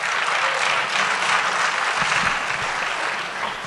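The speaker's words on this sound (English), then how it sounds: "Please give them a round of applause" Sustained applause from an audience at a school awards evening following a creative performance: a full, continuous roar of clapping that stays loud throughout, with a few duller thumps partway through.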